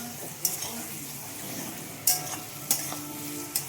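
Mutton masala with fresh ginger sautéing in a pan for a thin mutton curry, a soft steady sizzle under several sharp utensil scrapes and taps against the pan, quiet and close with no speech.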